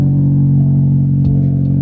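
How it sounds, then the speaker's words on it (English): A car engine idles after a repair, a steady low rumble with an even hum and a faint clatter, loud and close throughout. "Listen to the idle though."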